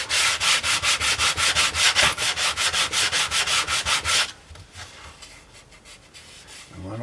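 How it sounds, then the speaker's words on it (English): Close, rhythmic back-and-forth sandpaper strokes scrub dried glue ooze off a wooden joint, about a dozen quick passes, then a quieter pause with faint light rubbing and no talking. "So I'm going to sand this to clean up any glue ooze."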